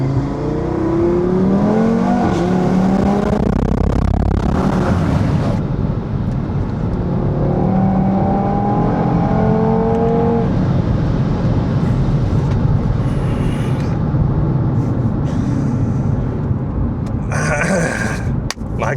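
A car accelerating from 0 to 100 on the autobahn, with a loud engine note climbing through the gears in rising sweeps, strong road and wind roar throughout and brief shift breaks.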